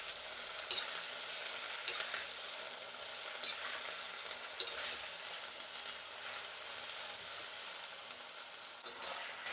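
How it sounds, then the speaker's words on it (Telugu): Horse gram rasam ingredients stirred and frying in a pan, a steady close sizzle with intermittent scraping strokes of the spoon across the pan, no voices. "కలుపుతూ వేయించుకోవాలి."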